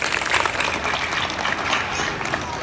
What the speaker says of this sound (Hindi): अपने लिए जोरदार ताली बजाएं।